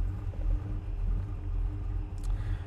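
A 1967 Pontiac GTO engine idling just after a cold start, a low steady rumble that stays fairly quiet, with no talking over it.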